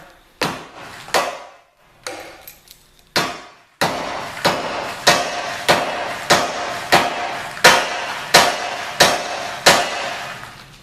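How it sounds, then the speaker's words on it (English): A hammer strikes metal again and again while loosening a car's rear bumper, a few irregular blows at first, then a steady rhythm of loud, ringing hits. "Hammer."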